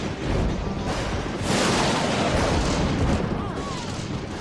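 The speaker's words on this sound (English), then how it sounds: "The sound of the thunder is like standing next to an explosion of a ton of TNT." Heavy thunder from lightning in a storm on Saturn, depicted as a dramatized effect: a loud, sustained, broad rumbling roar with booming surges that swell and recede, close and overwhelming.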